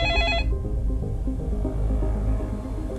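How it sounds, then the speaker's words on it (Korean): A telephone rings in a short electronic pattern that cuts off after about half a second, leaving a steady low hum in the room. "실종자의 어머니로부터 다급한 전화가 걸려옵니다"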